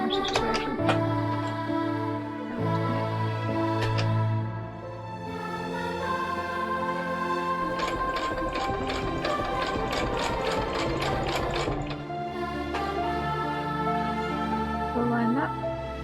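A sewing machine stitches cosplay fabric in quick repeated bursts of rapid mechanical clatter, set back at moderate volume amid soft background music, with a voice speaking briefly.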